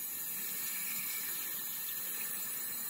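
Water running from a faucet into a sink in a home, a steady, close, continuous rush of flow with no pauses.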